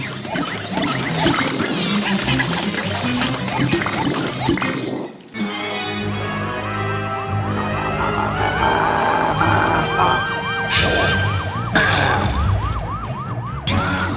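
A fire truck siren from the video game Luigi's Mansion 3 wails loudly in repeated rising and falling sweeps over dense, crashing game music and effects, continuing steadily after a brief dip.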